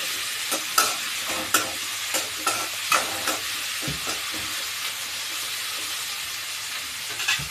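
Curry leaves and coriander leaves frying in hot oil in a pan for a pepper-garlic kuzhambu, a soft continuous sizzle punctuated by regular scraping stirs of a spoon, close and fairly quiet.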